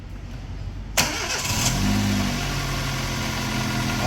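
A car engine with a noise and compression-loss fault cranks and catches, then settles into a steady, loud idle close by.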